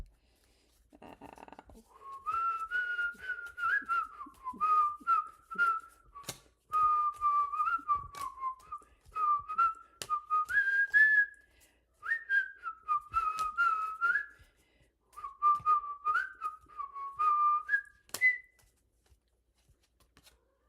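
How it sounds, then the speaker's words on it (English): A person whistles a wavering melodic tune in short phrases broken by pauses, close and fairly quiet, with faint clicks and rustling in the background. "My cats absolutely freaking hate whistling."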